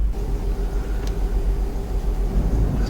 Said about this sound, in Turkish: Şu turbo sesi.